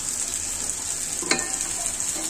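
Beef with raw jackfruit frying in a pan, a continuous close sizzle with a single sharp scrape or clink of a utensil partway through.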